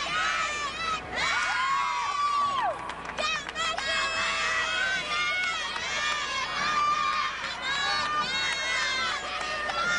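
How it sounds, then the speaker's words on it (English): Gymnastics teammates at the 2003 Super Six Challenge yell, whoop and cheer in loud overlapping bursts, with high shouted calls rising over a busy arena crowd throughout. "Some of you might think this is distracting, having the teammates yell"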